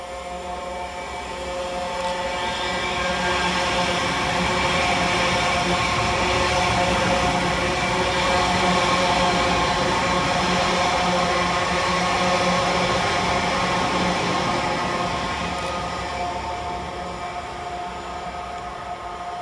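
A pair of Class 331 electric trains passes through Moses Gate station on a Blackpool North to Hazel Grove service, a loud rolling rumble and whine that builds, holds steady and slowly fades.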